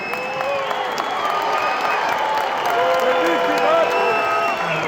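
Crowd applause and cheering fill a boxing press conference for Canelo vs Crawford, a steady, dense wash of clapping and voices lasting throughout at close, loud level.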